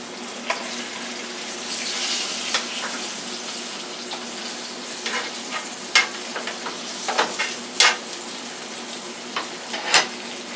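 Pork chops fry in a pan with a steady, quiet sizzle, broken by scattered sharper pops and spatters, some louder ones clustered in the second half.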